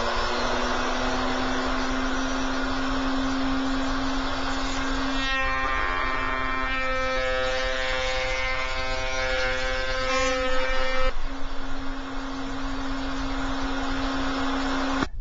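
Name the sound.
router cutting chamfers on crown molding with 45-degree bit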